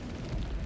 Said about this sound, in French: c'est la bombe de 500. Est-ce que c'est assez près?